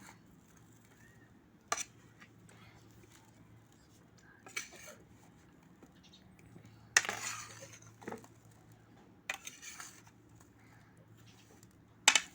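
Carrot pickle being mixed with a spatula in a pot, quiet scraping with a few scattered clinks and knocks of metal against the vessel, spaced out over a soft background.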